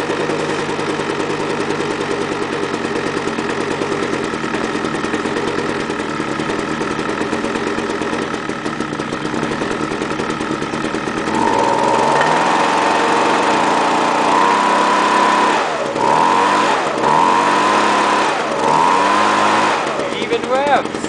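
A leaf blower or weed whacker engine, cold-started in 0°F January weather, idles steadily at close range, then revs up in several rising and falling bursts during the second half.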